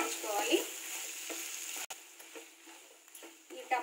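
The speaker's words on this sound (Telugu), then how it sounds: "ముందుగా కట్ చేసి పెట్టుకున్న టమాటోస్ కూడా ఇందులో వేసేసుకుంటున్నాను వేసేసి ఇవి కూడా బాగా వేయించుకోవాలి" Chopped tomatoes fry and sizzle in a pan for egg curry while a spoon stirs them, steady close sizzling with soft scraping strokes throughout.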